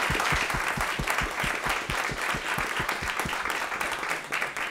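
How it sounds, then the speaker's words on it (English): An audience applauds after a climate change panel at a Columbia University evening event, a steady, dense round of clapping filling the room, sustained and fairly loud throughout with no voices over it. "Let's give another round of applause."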